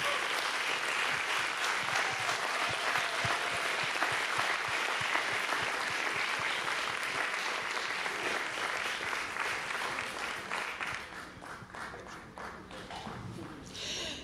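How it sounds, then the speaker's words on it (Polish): Dense, steady audience applause fills an awards gala hall at Stary Maneż in Gdańsk, loud and continuous for a long stretch before thinning slightly near the end. "Słuchajcie, takie krótkie te brawa."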